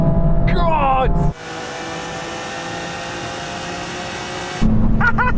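A tuned diesel car roars past close by, its loud engine note holding steady through a brief gear change before fading, with excited voices shouting over it at the start and end.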